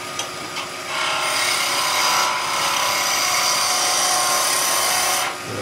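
A wood lathe spins as a cutting tool trims a nutcracker leg piece. After a couple of brief taps, a continuous scraping, hissing cut runs for several seconds and then stops abruptly near the end.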